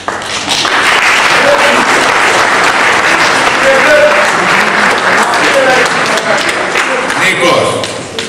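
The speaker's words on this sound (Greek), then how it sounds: "Τώρα κύριε να χειροκροτήσετε" Loud, close audience applause at a public gathering rolls on steadily for several seconds, with voices mixed into the clapping before it fades near the end.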